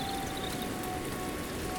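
Steady rain in a Hindi animated cartoon story set on a cold night, falling evenly with dense patter on surfaces, constant and fairly loud with no voices over it.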